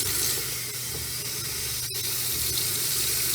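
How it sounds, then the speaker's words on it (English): Water runs steadily from an RV's outdoor spigot, a continuous close hissing spray with one brief dip, no voices. "So now we want to run the spigot"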